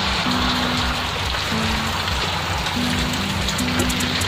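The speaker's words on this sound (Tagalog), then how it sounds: "naabutan kami ng ulan dito sa may parte ng Bani." Rain falling steadily in the Bani area, a dense, continuous hiss of drops on surfaces, loud and even throughout, with a faint tonal hum underneath and no talking.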